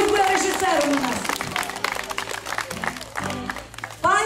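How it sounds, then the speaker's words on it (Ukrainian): A festival crowd claps during a children's gala concert in a village, the applause mixed with someone talking over it and background music, the clapping thinning toward the end as another voice begins. "Дайте оплески"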